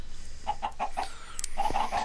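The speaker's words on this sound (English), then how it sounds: "Now we've got chickens, and we've got something else." Chickens cluck in a video game, a quick run of short, evenly spaced clucks followed by a second close burst, clear and moderately loud with faint background noise.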